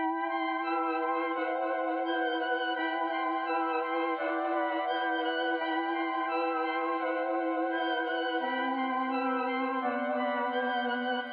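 Dark synth pad melody, EQ'd to cut both lows and highs, holding sustained stacked harmonic chords that shift slowly with a lower note change near the end; steady, even and alone, no voices.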